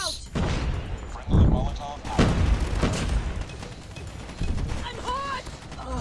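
A thrown bomb explodes in Call of Duty Mobile, with several heavy booms and bursts of gunfire in quick succession amid a busy battle mix.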